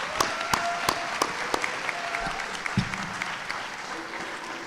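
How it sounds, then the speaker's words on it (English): A school assembly crowd claps for JROTC members, a steady roar of applause filling the room with a few sharp, loud claps standing out near the front. "Please give our JROTC members another round of applause."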